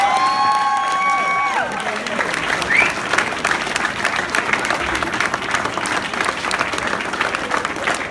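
Wedding guests applaud the best man at a reception, sustained dense clapping lasting throughout after a brief musical tone at the start, with some cheering mixed in.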